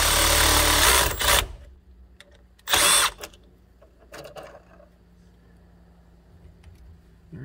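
Electric impact gun loosening a 10 mm fastener during rear brake line repair on a 2008 Subaru Outback, two loud close bursts of whirring hammering separated by quieter shop noise.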